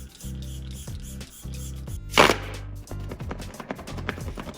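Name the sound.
setting spray sprayed on face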